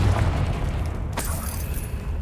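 Confringo fire-blast spell in Hogwarts Legacy, a heavy low booming explosion with a rumbling tail and a brief sharp crackle near the middle, close and loud.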